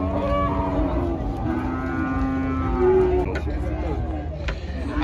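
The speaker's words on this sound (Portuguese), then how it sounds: "Olha a boiada capoeira" Cattle at a livestock market in Monte Alegre, Sergipe, give several long, drawn-out moos one after another, loud and close, over a background of market murmur and faint voices.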